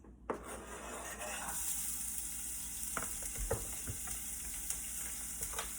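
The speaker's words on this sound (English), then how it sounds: "then I am going to add at least 2 tablespoons of diced onions" Diced onions hitting hot oil in a pan while making plantain egg puffs, a sudden sizzle that settles into steady frying, with a few clicks and taps of utensils close by.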